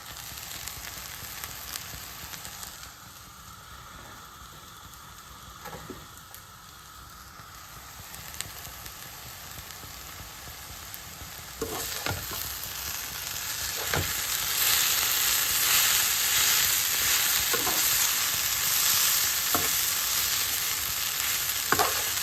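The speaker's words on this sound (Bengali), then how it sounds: "ভাজি অনেকটাই হয়ে গেছে এখন পেঁয়াজগুলি দিয়ে দেবো" Onions added to potato bhaji frying in a pan, a steady close sizzle that grows louder and brighter partway through, with occasional stirring clicks and no talk.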